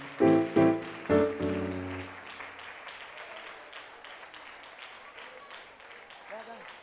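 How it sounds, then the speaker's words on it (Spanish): A church audience applauds at the close of an evangelical testimony service. A brief voice comes first, then soft, scattered clapping patters on at a low level for several seconds. "Denle un aplauso al Rey."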